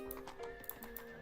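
A horse whinnies in an Age of Empires strategy game. Brief clip-clopping hoofbeats play alongside it, all compressed into a short, fairly quiet burst.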